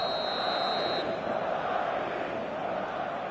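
A stadium crowd in a football video game on a clear evening makes a steady, dense roar of singing and chanting from the stands, with a brief high tone at the start.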